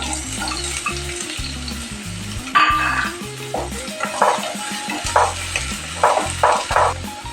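Shallots, ginger, green chili and curry leaves fry loudly in a pan, with a crackling sizzle, sharp spattering pops and a spoon scraping and clinking against the metal, all close up with no voices.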